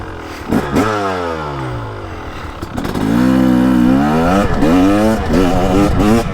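A 2023 KTM 300XC TBI two-stroke dirt bike rides a woods loop, its engine loud and close, revving up and down in repeated bursts of acceleration and easing off, with a steady raspy drone throughout.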